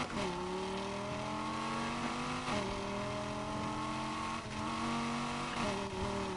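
A car engine in the Need for Speed Heat video game revs repeatedly, rising in pitch through several gear shifts, steady and prominent with game sound in the background.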